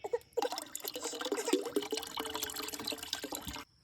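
Comfrey tea poured and strained through stained cheesecloth into water, a close, splashy trickling and pattering stream lasting a few seconds before stopping abruptly.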